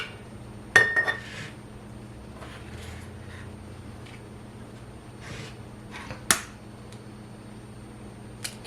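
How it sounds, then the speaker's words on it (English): Fresh farm eggs cracked one by one into a bowl, two distinct sharp cracks with light clinks of shell against the rim, set apart by quiet pauses in a still kitchen. "we're going to crack them in the bowl and make sure they're good"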